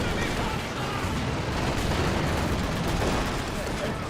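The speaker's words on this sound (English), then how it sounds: "That is actually a high explosive barrage that was being queued up there." A high-explosive mortar barrage in Company of Heroes 2 rumbles through a loud, unbroken roar of battle, with booms and gunfire blending together and voices talking over it.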